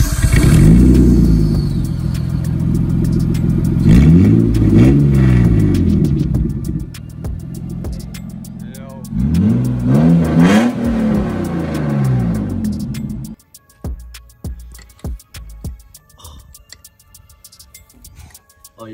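A Nissan R34 Skyline engine with its exhaust removed is revved hard in a garage, a loud raw blare that rises and falls through several sweeping revs before dropping to a rough, popping idle.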